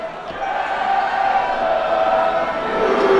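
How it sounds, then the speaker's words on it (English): At a Seattle U23 versus Chattanooga FC soccer match, a stadium crowd makes a steady, swelling roar of cheers and shouts, with a sustained vocal chant carrying through it. "Crowd are enjoying it."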